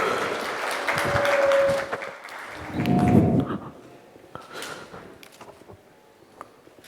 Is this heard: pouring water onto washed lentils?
no